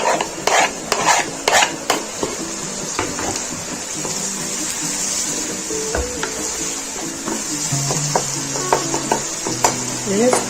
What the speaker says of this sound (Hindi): इसको अच्छे से हमने इसे चम्मच की मदद से मिक्स कर देना है सारे मसालों को।